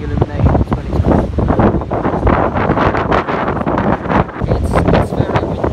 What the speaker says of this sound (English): It's very windy. Very, very windy.